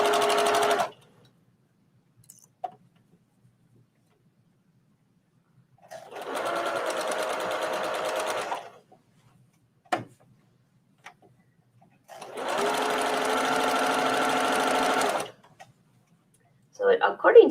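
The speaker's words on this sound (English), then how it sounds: "So you need your stitch as close to there as you possibly can without stitching through the elastic." Sewing machine stitching a draped skirt in two sustained bursts of steady mechanical whirring, close and clear, with short stretches of near silence and brief voice at the start and end.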